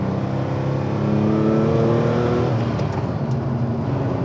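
An air-cooled Porsche 911 Clubsport engine revs and hums steadily, its pitch rising as it accelerates, loud and close with a throaty, buzzing drone.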